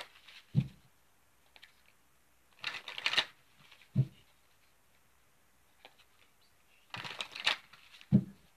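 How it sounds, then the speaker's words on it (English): Playing cards are shuffled in short, crisp riffling bursts separated by quiet pauses, close by and fairly soft. "I'll shuffle up the cards and we'll get into this reading"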